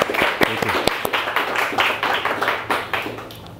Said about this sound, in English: we welcome Lauren with a big applause of hands